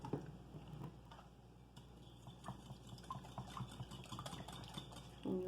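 Eggs being whisked in a bowl for a nopales omelette, seasoned with garlic salt; a quiet, steady clatter of utensil against the bowl with scattered clicks, close and fairly soft, no talking.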